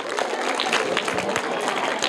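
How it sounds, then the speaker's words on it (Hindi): Group of children clapping for a correct quiz answer, a dense, steady patter of many small hands filling the room throughout, moderately loud with faint voices underneath. "जोरदार तालियां"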